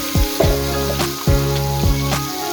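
Turmeric-and-salt-coated potatoes frying in a pan give a steady, loud, close sizzle broken by a few sharp knocks and scrapes, with no one speaking.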